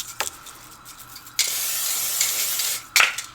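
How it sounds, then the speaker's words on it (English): Palm olive oil cooking spray is sprayed onto a pan on a stove in two hissing bursts, a long steady spray followed by a short one, close and fairly loud. "I'm gonna actually spray some of this palm olive oil spray"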